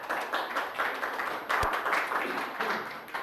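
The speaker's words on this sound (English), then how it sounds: "You all don't have to clap." Lecture audience claps after a speaker on chronic wasting disease in Wisconsin is introduced, a crowd's close, rippling clapping with a few sharper hits and some voices mixed in.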